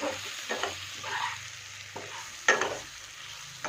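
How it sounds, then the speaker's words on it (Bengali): Fish pieces being stirred with chili powder and spices in a frying pan for a Bengali fish curry, soft sizzling under intermittent scraping strokes of a spatula, with a sharper clack near the middle. "ভালো করে একটু নেড়ে নেব মাছগুলোকে মশলার সাথে"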